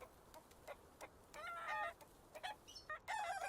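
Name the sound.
chickens clucking in the video game Baby Steps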